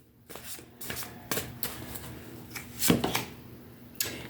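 Close, quiet oracle card shuffling: repeated riffles and taps at irregular intervals, with a louder cluster of flicks near the middle.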